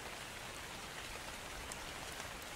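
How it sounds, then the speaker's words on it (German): Rain in the video game ARK: Survival Evolved falls at night as a steady, even hiss of faint, dense patter with no voices and no change across the moment. "weil es regnet ja"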